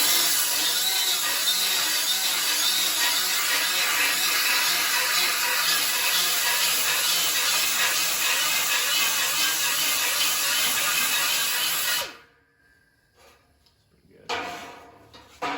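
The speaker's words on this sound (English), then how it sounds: "I'm gonna go ahead and remove that dross with the grinder right here" A grinder works inside notched tubing to clear dross, making a loud, steady, harsh grinding hiss for about twelve seconds before it cuts off, with brief faint clatter afterward.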